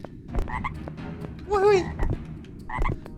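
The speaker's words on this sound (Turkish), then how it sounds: "Bu kurbağa neyin nesi?" A frog in the Dark Riddle video game croaks in repeated throaty, warbling calls, one longer and louder than the rest, heard up close over low background noise.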